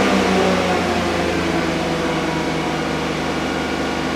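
A 2008 Chevy Suburban engine stuck at a high idle of about 3,000 RPM, droning loud, close and steady with a constant whirring, no talk over it.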